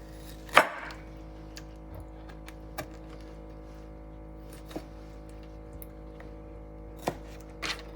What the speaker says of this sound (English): I'm not chopping them all the way off, I'm just making some big chunks.